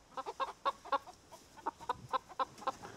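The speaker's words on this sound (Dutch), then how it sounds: "prachtige kippen zijn. Prachtige beestjes." Hens cluck in a quick series of short, bright calls, about a dozen close-up pecks of sound in a garden setting, with no talk over them.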